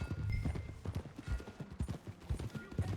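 Horse hooves clip-clop at a riding pace in Red Dead Redemption 2, a quick repeated patter of close, distinct hoofbeats running throughout with no talking.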